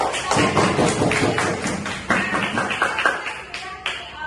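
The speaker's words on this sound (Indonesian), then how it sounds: "ada ibu semua coba tepuk tangan dulu" An audience at a group session claps hands together, a run of rhythmic, fairly loud close claps with thuddy taps, loosening and thinning toward the end, while a voice speaks faintly beneath.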